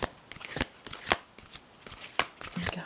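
Playing cards shuffled by hand for a card trick, a run of crisp riffling snaps and soft slaps in an uneven rhythm. Close and fairly loud, with faint low movement noise.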